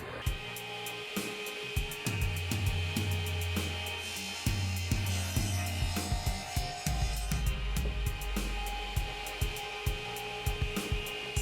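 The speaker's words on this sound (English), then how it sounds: "I'm fixing to start milling the inside of it" Milling the inside of a wooden drum shell for a drum kit: a steady machine whine and rumble runs throughout, punctuated by repeated clicks and knocks, close and loud with no talking.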